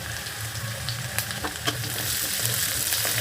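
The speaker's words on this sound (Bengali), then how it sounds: "এবার এই আলুর ভিতরে পেঁয়াজটা ছেড়ে দেবো" Potatoes frying in a pan as chopped onions are added, a steady soft sizzle with small crackles and occasional stirring clatter, close and continuous with no talking.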